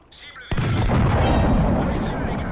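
In World of Tanks, an enemy tank cannon round strikes the player's turret: a sudden heavy boom after a quieter start, followed by a sustained loud roaring rumble that fades slightly.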